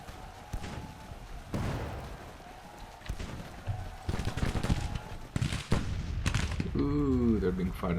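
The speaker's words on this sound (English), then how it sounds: "they're being fired upon" Scattered cannon blasts and musket fire from a Civil War strategy game thump and crackle through a dense battle din, with a voice speaking over part of it.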